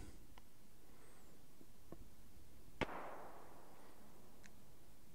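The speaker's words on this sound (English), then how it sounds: "There's lots of firing going on." A single sharp gunshot cracks out in the DayZ video game, faint and distant, with a short fading tail over a quiet low background hum.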